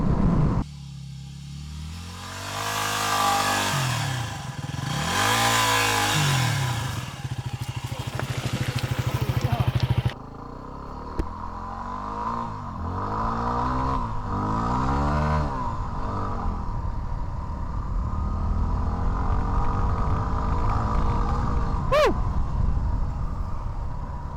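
A Yamaha WR250R motorcycle on the move, its engine climbing and dropping through the gears with a steady rumble and wind, heard up close from the rider's position.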